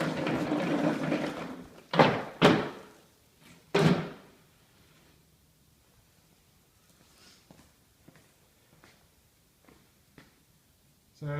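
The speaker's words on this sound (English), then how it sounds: "I'm going to go ahead and pull the dolly out from underneath it" A small plywood dolly built from two Harbor Freight dollies is pulled out from under a mounted Kubota GCK60-26BX mower bagger. It gives a few sharp knocks and clunks close by, then faint scattered ticks.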